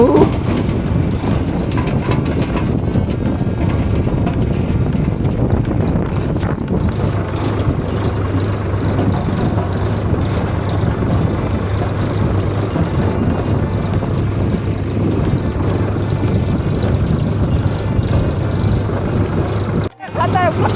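A farm tractor hauling and spreading manure in a field, its engine a steady low drone with a constant hum running the whole way, loud and close, broken by one brief drop near the end, with a voice talking over it.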